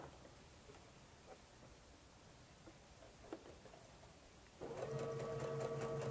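A sewing machine stitches a red corner on a Log Cabin Court House Steps quilt, starting after a few seconds of quiet rustling and then running as a steady, close, rapid whir of stitching.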